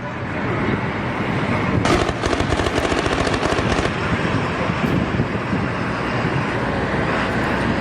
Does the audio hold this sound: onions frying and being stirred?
no